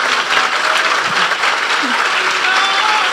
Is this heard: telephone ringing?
no